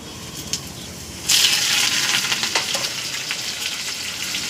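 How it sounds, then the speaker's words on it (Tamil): Chana dal and urad dal frying in hot oil, a soft background crackle that jumps into a loud, bright sizzle as they hit the oil, then settles to a steady frying hiss. "எனக்கு கடலப்பருப்பு உளுத்தப்பருப்பு கொஞ்சம் ஃப்ரை ஆகணும்"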